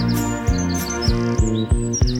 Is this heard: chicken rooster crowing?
no